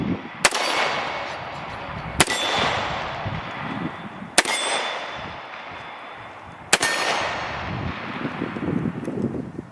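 Four sharp, loud FN FNX-45 pistol shots with cheap ammunition ring out at a range, spaced about two seconds apart, each followed by a brief decaying echo, with no talking.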